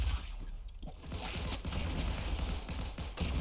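Dense gunfire rattles through a Fortnite match as a sniper fires, a loud continuous burst of shots and impacts filling the whole moment with no voices.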